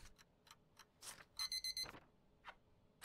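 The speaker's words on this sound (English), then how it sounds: "Why does it beep at me?" A short electronic beeping alarm from the video game Papers Please sounds as a rapid run of four or five bright, evenly spaced beeps, framed by faint clicks and game sounds with no talking.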